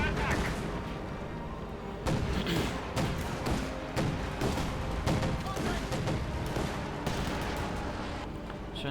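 Gunfire in the strategy video game Company of Heroes 2 during a 1v1 match: dense, overlapping bursts of rifle and machine-gun shots with heavier booming impacts, sustained and loud throughout.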